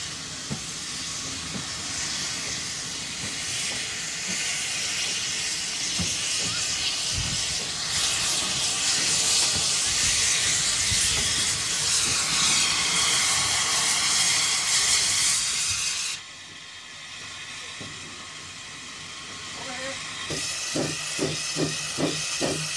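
Loud, continuous steam hiss from a steam locomotive with rumbling machinery for most of the stretch, then dropping away to a quieter passage with rhythmic chuffing bursts near the end.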